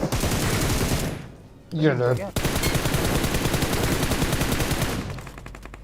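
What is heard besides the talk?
UMP submachine gun gunfire in a video game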